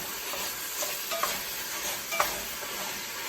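Pork browning in a pot for chili, stirred and scraped, giving a steady close sizzle broken by a few light scraping knocks from the utensil.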